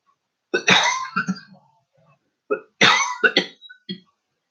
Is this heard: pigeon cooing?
no